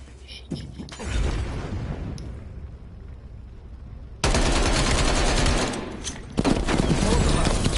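Dense automatic gunfire in a Call of Duty match, loud rattling bursts that cut in abruptly and run continuously, with a brief quieter stretch of battle noise between volleys.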